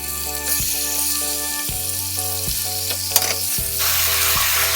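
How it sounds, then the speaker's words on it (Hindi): Raw chicken hitting hot oil in a pan for white chicken korma, a loud sustained sizzle and frying crackle with stirring, steady throughout and close, with no talking. "अब इसमें चिकन डालेंगे"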